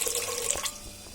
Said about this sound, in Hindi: ये सबसे पहले पानी डाल देंगे यखनी बनाने के लिए।